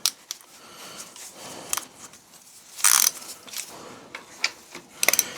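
A socket ratchet loosens a 9/16 bolt on a David Brown tractor, producing scattered metallic clicks and short ratcheting bursts with quiet gaps between, close up and fairly faint.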